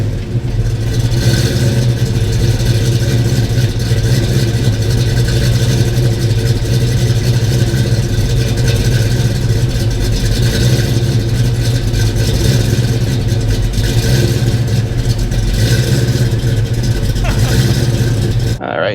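A 1993 Ford Mustang Cobra with a 5-liter engine and a 5-speed gearbox runs with a loud, steady, close rumble that holds from start to finish and cuts off abruptly at the very end.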